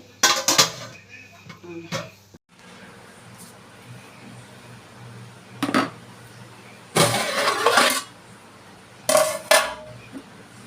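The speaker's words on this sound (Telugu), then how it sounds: "ఇప్పుడు మూత పెట్టుకుంటే మగ్గుతుందండి" A metal lid set onto a pot of prawn biryani, giving sharp clanks and clinks in short separate bursts over a quiet kitchen hum.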